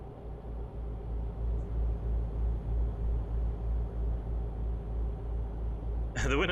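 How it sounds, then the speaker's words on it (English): A truck engine in the Euro Truck Simulator video game drones in a steady, low, pulsing rumble throughout, fairly loud and continuous, with a brief sharp sound near the end. "How are the sounds of the truck? Can you hear the truck quite well?"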